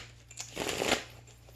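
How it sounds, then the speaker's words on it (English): Tarot cards being shuffled by hand, a soft riffling swell of papery flutters lasting about a second, close and fairly quiet over a low steady hum. "I just need to shuffle a little bit"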